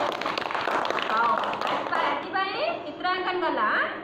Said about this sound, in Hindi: हाथ ताली बजाओ